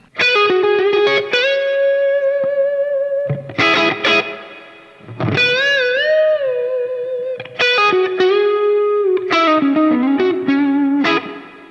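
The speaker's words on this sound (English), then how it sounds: "I just added some reverb, a little bit of plate, and a little bit of hall reverb" Distorted electric guitar plays sustained chords and melodic lines, each note ringing out into a spacious, washy plate and hall reverb tail.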